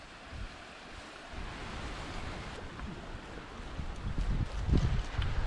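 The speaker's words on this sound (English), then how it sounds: "probably one near the river, because that's kind of nice to listen to the babbling brook" A river flowing near a hiking trail, a continuous rushing water wash with wind buffeting the microphone, growing louder and rougher toward the end.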